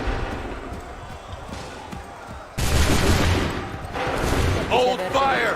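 Gunfire volley from musket-armed soldiers in the video game Assassin's Creed III Remastered: a loud, dense burst of shots erupts midway and a second volley follows, over busy battlefield background and voices.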